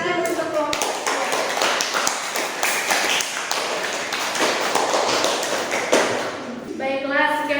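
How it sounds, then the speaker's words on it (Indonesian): Classroom applause for a group that has just finished presenting, a dense run of many hands clapping close by for several seconds, with voices speaking at the start and end. "Oke, tepukan tangan untuk kelompok"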